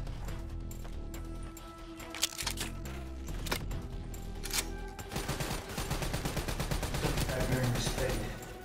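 Rapid gunfire from Call of Duty: Black Ops III during a hard-mode boss fight, with sharp cracks and sustained automatic bursts that build into dense volleys over a busy background.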